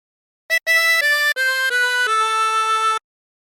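A 16-hole tremolo harmonica plays a short phrase of The Wellerman: a quick pickup note, then a few wavering, reedy tones stepping downward and ending on a held note, loud and close with silence on either side.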